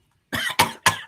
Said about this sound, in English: You have been coughing through the whole show here.